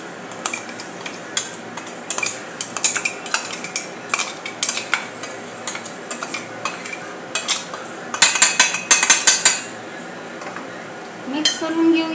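Soaked, swollen sabudana being mixed with a coarse powder in a bowl for sabudana vada, a spoon scraping and clinking against the bowl in bursts of close, irregular strokes, with a few louder clatters near the end.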